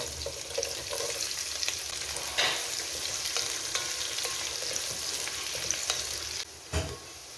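Green chillies and long-sliced onions frying in a pan, a dense, continuous sizzle with frequent stirring scrapes and a couple of louder clatters near the end, no talking.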